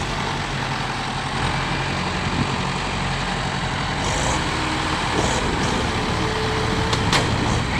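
A truck engine idles and rumbles steadily nearby on a rough rural track, arriving to tow a tractor sunk deep in mud, with occasional brief hissing and clanking over the continuous low drone.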